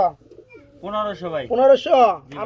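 Running pigeons offered for sale cooing up close, a few soft throaty coos in short rising phrases, with a person talking over part of it.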